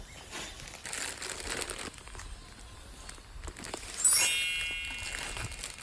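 A plastic bag crinkles and rustles up close while sun-dried beef scraps are packed into it, in irregular crackling bursts that swell into a louder crunch near the end.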